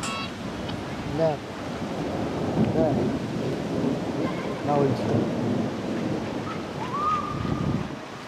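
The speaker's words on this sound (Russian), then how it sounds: "Он дождь начался." Thunderstorm in Kimovsk with rain beginning: low rolling rumble and steady rain hiss fill the clip, with voices talking faintly underneath and a few brief chirps.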